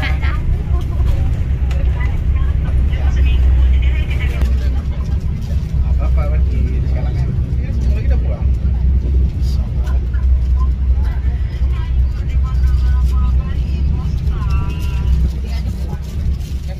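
Inside a moving Aerobus luxury coach on the Medan to Aceh route, a deep continuous engine and road rumble fills the cabin while someone talks over it.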